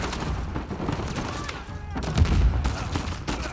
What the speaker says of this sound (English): This ain't my first time shooting a gun.